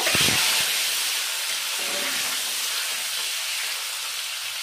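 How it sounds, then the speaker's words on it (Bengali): Boiled eggs fry in hot mustard oil in a pan, a steady loud hiss and sizzle that starts with a brief sputtering burst and then settles into an even, continuous crackle. "ডিমগুলো ভেজে নেব"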